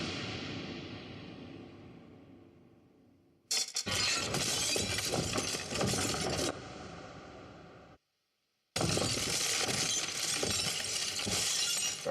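Film sound effect of the two towers beside a gate crumbling apart in The Return of the King: a fading rumble, then two long, loud bursts of dense crashing and shattering debris separated by a brief silence.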